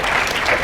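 Loud, dense clapping from an audience fills the whole brief moment, a steady close wash of many hands.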